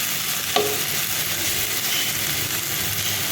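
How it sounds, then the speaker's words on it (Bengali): Potatoes sizzle steadily in a hot pan, with a brief utensil clink near the start and no voices. "আলুটা ভালোভাবে ভাজা হোক এইভাবে দেখো"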